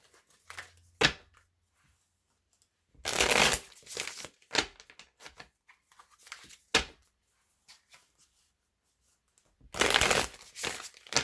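Osho Zen Tarot cards being shuffled in bursts of soft riffling and flicking, with longer shuffles at the start, middle and end and small taps between them, close and with no talking.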